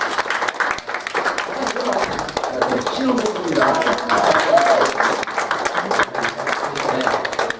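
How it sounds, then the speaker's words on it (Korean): A church congregation at a Sunday service in Auckland gives warm, steady applause to welcome a newlywed couple, while someone speaks over the clapping throughout. "우리 박수 한번 드리겠습니다."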